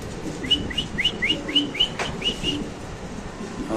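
A string of short, bright pigeon calls repeats in a quick, steady series over a low background murmur at a pigeon sale, with a few more calls near the end.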